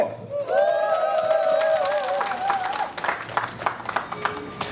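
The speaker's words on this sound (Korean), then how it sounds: "박수로 모시겠습니다. 박수." An audience at a Suncheon gathering on an incinerator dispute applauds to welcome a local environmental movement representative. A sustained sung or amplified tonal voice rises over the start, then scattered clapping and crowd murmur continue.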